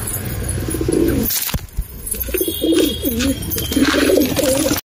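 A flock of pigeons kept at a home coos loudly and continuously, with overlapping throaty calls close by and a brief flutter of wings midway, no talking.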